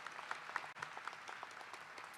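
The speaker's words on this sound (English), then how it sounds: "Can we still give them a round of applause since a lot of them are still watching us?" A crowd at a college of health professions commencement ceremony gives a round of applause, a fairly faint, even patter of many hands with a momentary dip partway through.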